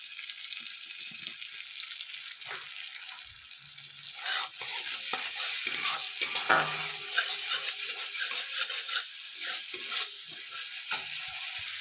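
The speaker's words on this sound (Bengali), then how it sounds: "ভালো করে আমি মশলাটাকে ভেজে নেব সামান্য আমি টমেটোমের সস দিলাম" Spice masala frying with tomato sauce in oil in a pan, a soft steady sizzle with intermittent scraping and stirring of a spatula, fairly close and alone.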